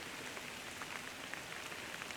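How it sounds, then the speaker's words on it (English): Soft, steady rain falling, a faint even hiss of drops with occasional louder patters. "It's starting to rain again."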